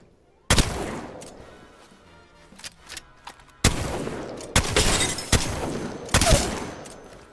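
Single heavy gunshots from a weapon in a shooter game during aim practice, several sharp loud blasts spaced irregularly with brief gaps and fading tails between them.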